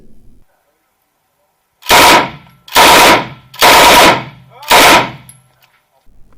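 BREN light machine gun fired from the hip in four loud, close bursts of rapid automatic fire, each about half a second long, separated by brief pauses, with near silence before and after.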